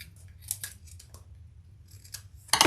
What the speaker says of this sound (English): Now I am going to cut off more zipper tape here.